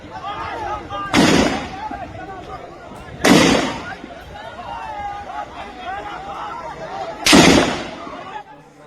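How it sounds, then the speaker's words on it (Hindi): Gunfire rings out during a violent clash in Buxar, Bihar, with three loud, sharp reports spread across several seconds. Crowd chatter and shouting continue underneath throughout. "गोलियां चलाई जाती है और ये एक कह सकते हैं कि फायरिंग और हिंसक झड़प की तस्वीर जो है वो सामने आई है"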